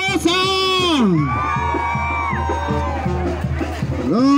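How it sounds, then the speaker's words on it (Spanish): Crowd at a bull festival parade in Huamantla shouts and whoops in loud bursts, with a dense hubbub of voices and a few rising yells carrying over steady background noise. "Y el grito de la gente."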